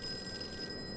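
A telephone rings faintly in the horror investigation game Call of Cthulhu, a thin, steady electronic tone lasting about a second with no voices.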